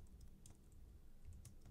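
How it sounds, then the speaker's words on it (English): Someone types quickly on a computer keyboard, with light close clicks in short irregular bursts and a soft low hum underneath. "Saves me a little typing."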